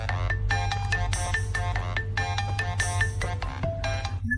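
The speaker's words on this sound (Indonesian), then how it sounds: "Telepon." A telephone ringtone plays a repeating chiming melody in bursts over a low steady hum, loud and close, with no talk.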